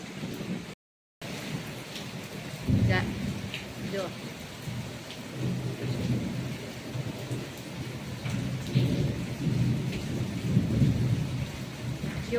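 Steady rain pours down while deep thunder rumbles roll in and out, with a short silent gap near the start.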